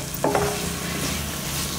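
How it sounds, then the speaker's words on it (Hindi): Spice masala with dried fenugreek leaves for Punjabi chole, stirred and fried in a pan, giving a loud close sizzle with a couple of sharp scraping stir strokes near the start, no voices. "और फिर से मैं ये मसाले को 1 से 2 मिनट और अच्छे से भून लूंगी।"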